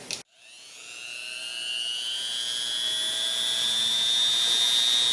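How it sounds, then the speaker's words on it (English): A Hyper-Tough rotary tool fitted with a cutting disc spins up to a high, steady whine after a short click and grinds continuously through a small trigger connector tab, close and moderately loud. "So this cutting disc does come with this Hyper-Tough Dremel tool from Walmart."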